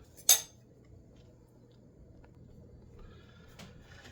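A metal lid set back onto a pan while a Spanish omelette cooks, one sharp close clink near the start, followed by quiet kitchen background and a couple of faint later taps.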